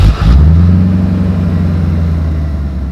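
A tuned 1987 Mercedes-Benz 560SL with a Carobu stage one package fires up and revs, a loud deep V8 roar that swells sharply then settles into a steady, slowly fading idle.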